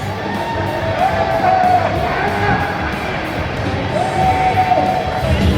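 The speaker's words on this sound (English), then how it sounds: "This is a very light crowd here tonight." Crowd noise at an AEW wrestling taping in April 2021: a steady wash of murmuring and scattered shouts and whoops from a light audience, continuous and moderately loud, with rising yells now and then.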